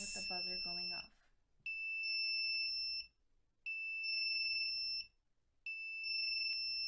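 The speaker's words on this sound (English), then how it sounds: "Now when we'll unplug it, we'll see the yellow and red LEDs flashing Nice. along with the buzzer going off." An Arduino alarm buzzer sounds in three long, steady piercing tones separated by brief pauses, loud and close, after a short burst of speech at the start.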